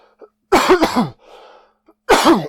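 Two harsh, close coughs, the first a double burst, the second single, with a soft breathy rasp between them.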